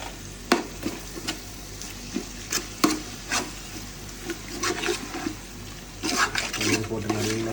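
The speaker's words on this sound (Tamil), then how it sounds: "போட்டு நல்லா கிண்டி விட்டு" Biryani masala stirred with yogurt in a pot for Ambur mutton dum biryani makes wet, squelching stirs and sharp spoon knocks against the metal, loud and close, with a sizzling hiss underneath.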